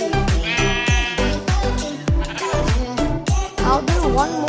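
Minecraft sheep bleating over and over in a quick series of loud, wavering calls, each one short and close, with no speech between them.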